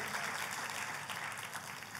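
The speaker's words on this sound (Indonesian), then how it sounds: "Tepuk tangannya boleh yang paling meriah buat Tuhan kita" Applause fills a church service honoring God, a steady dense wash of clapping from a congregation that stays even and moderately loud throughout.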